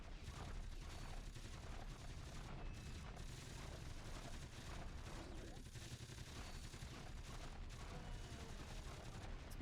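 Rockets firing in the video game Ratchet & Clank, a continuous barrage of rapid blasts and explosive thumps filling the mix, quiet overall, with talking over the action.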